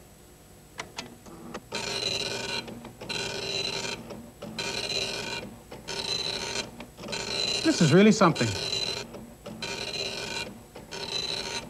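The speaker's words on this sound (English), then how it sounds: "And now press F2 to start printing Christmas Carol." A computer printer prints a word processor document, its head rasping in repeated regular passes of about a second each separated by short pauses, loud and close, with a person briefly speaking partway through.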